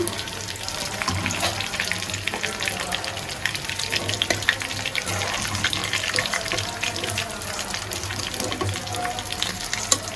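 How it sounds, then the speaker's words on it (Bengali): Chicken pieces deep frying in hot oil until crisp, a steady dense crackling sizzle running throughout with occasional clinks as pieces are lifted from the pan. "এখন আমরা তুলে নিতেছি সুন্দর করে কড়া করে ভাজি।"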